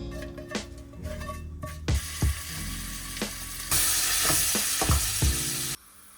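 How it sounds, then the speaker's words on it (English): Eggs sizzle and fry in a hot pan while being scrambled, loud close crackling with repeated sharp scrapes and taps of a utensil against the pan, then the sizzle cuts off. "I'm gonna be making egg scramble today."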